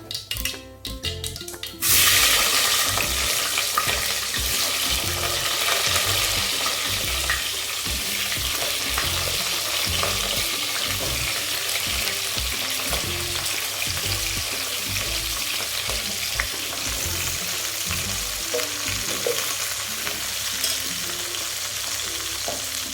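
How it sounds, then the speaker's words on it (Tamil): Brinjal pieces tipped into hot oil with popped mustard seeds set off a sharp burst, then a loud, steady close sizzle with faint stirring scrapes throughout for a Tamil brinjal thokku gravy. "கடுகு நல்லா பண்ணிட்டு இப்போ கத்திரிக்காய் அங்கே போட்டுக்கலாம்."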